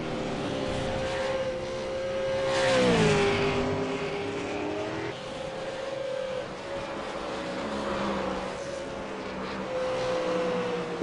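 A V8 Supercar race car laps the Virginia track, its engine holding a steady high drone that drops in pitch as it brakes into a corner, then climbs again under acceleration, loud and continuous.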